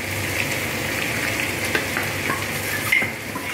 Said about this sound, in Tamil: அதுக்கு உண்டான பருப்பு ஜலம் ஊற்றுறேன்